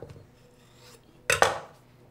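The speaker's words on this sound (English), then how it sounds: "We're gonna cut up the banana." A knife cuts through a banana on a cutting board in a home kitchen: a couple of quick, close chops with a soft knock against the board, preceded by quiet handling.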